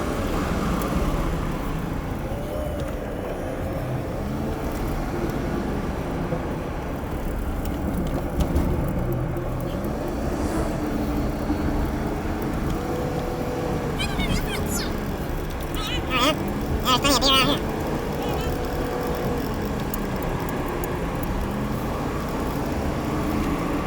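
A car drives on twisty hill roads, sped up, near Hocking Hills State Park. A steady engine and road drone runs the whole time, with a voice talking over it.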